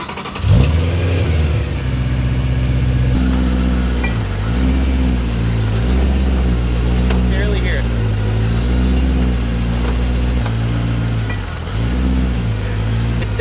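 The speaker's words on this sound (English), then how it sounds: "that sound is indicative of the center support carrier bearing" A BMW E92 M3 drives with a worn center support carrier bearing, giving a continuous droning hum that rises and dips with engine load throughout, heard close inside the car.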